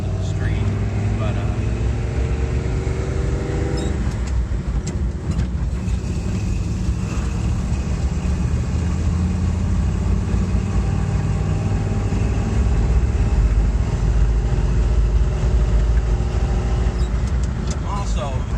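A 1978 Dodge Ramcharger full-top convertible drives down a street, its engine and road rumble steady and loud with wind noise, while someone talks over it throughout.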